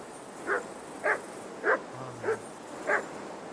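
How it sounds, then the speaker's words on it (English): Mutt, a dog in Kingdom Come: Deliverance II, barks five times in an evenly spaced series, moderately near, with no speech. "भौंक क्यों रहा था वैसे?"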